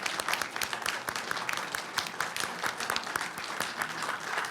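A school district board reception audience gives a steady round of applause honoring a family, dense overlapping hand claps sustained throughout at moderate volume.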